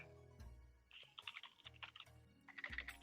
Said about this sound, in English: Typing, not using the macro.